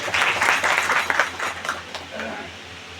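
A short burst of applause from a crowd at a devotional bhajan gathering, dense clapping that swells and then gradually thins out over a few seconds.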